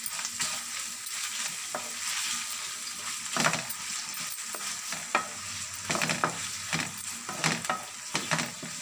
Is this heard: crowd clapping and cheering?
no